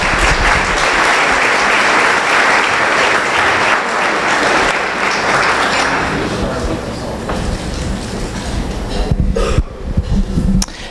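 Audience applause for retiring board members at an awards event, loud sustained clapping from a large crowd that tapers after about six seconds into scattered claps and room noise, with faint voices in the background.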